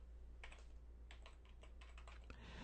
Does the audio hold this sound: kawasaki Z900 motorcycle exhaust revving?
no